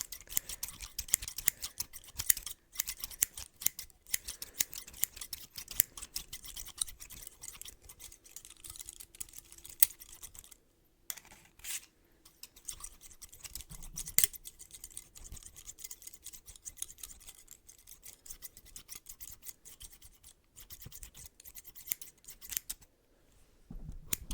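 Scissors cutting hair during a barbershop haircut, recorded close up: quiet, crisp snips in quick irregular runs with short pauses between them, and no one speaking.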